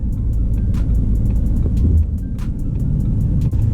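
A vehicle, apparently an older pickup truck, drives past close by, giving a steady low engine rumble and road noise for a few seconds with no talk.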